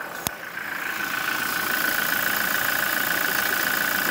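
A 2017 Toyota Hilux pickup engine held at a steady rev, with a droning mid-pitched hum and faint rattle, building slightly then holding constant, heard close with no talk.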